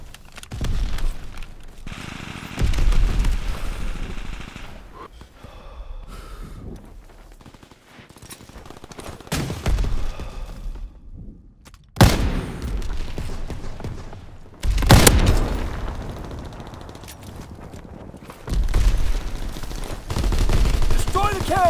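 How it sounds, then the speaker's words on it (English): Call of Duty WWII battle with demolition charges and artillery, bursts of gunfire and booming explosions arriving in loud clusters, close and forceful, between quieter stretches. "Charge exploded. One more and that gun is history."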